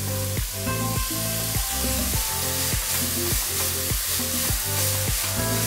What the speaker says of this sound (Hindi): बस 2 टेबलस्पून घी में हमें ये कद्दूकस किया हुआ कद्दू को अच्छा सा भून लेना है